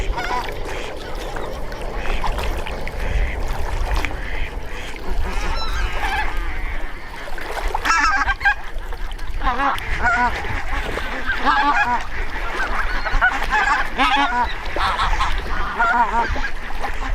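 Geese honk repeatedly in a loud, overlapping chorus at a waterside hunting spot in Téteghem, France, with calls clustering and building through the middle and later stretch.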